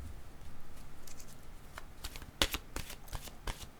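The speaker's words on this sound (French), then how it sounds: "Je vais demander maintenant une carte de mon oracle de l'âme intuitive." Oracle cards from an intuitive-soul deck being shuffled and drawn: a run of soft, quick papery flicks and riffles, close and quiet, with a sharper snap partway through and no talking.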